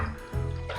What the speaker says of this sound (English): we're going to go ahead and just swirl in the sink to bring it up to temperature